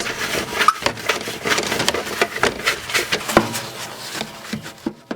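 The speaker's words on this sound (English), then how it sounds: "scrub the entire surface of the feeder and the drain area of the chute" Brisk scrubbing with a stiff brush against the hard surface of a calf autofeeder, repeated rough strokes in an uneven rhythm, close and fairly loud.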